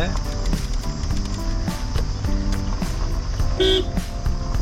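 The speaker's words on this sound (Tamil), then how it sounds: "ரொம்ப நேரமா ஹார்ன் அடிக்கிறோம்." A car horn sounds repeatedly in short and held blasts over a steady engine rumble, with voices talking faintly in the background.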